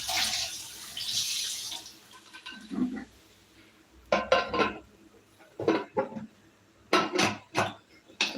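A pressure cooker lid and its weight are set in place on a stove while a traditional tuber dish cooks. A rushing, watery hiss comes first, then a string of sharp, close metallic clanks and clinks in uneven bursts.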